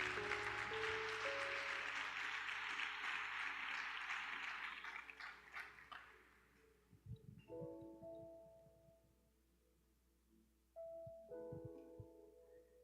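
Congregation applauding during an evangelical church service: a dense, sustained wash of clapping that fades after several seconds, leaving quiet organ-like tones and a few soft knocks.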